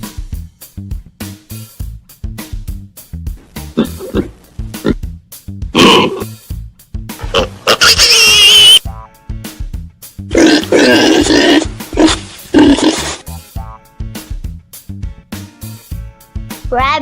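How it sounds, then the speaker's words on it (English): Pig grunts and snorts come in short, rough bursts, some harsh and squealing, close and loud over a steady rhythmic music bed. "Pig."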